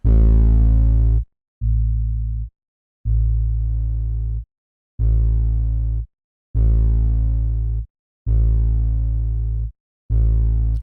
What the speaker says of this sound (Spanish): Voy a probar, por ejemplo, con la distorsión de un fast dist.